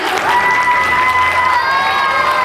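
Steady, loud audience applause at a Republic Day school event at an academy in Rampur, India, with continuous clapping and some crowd noise throughout.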